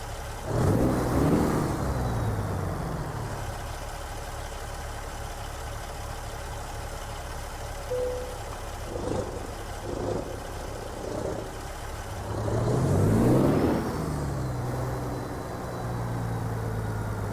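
A Peterbilt 389 glider truck in American Truck Simulator starts up, settles into a low rumbling idle, then revs twice more, each time swelling briefly before dropping back to a steady diesel idle.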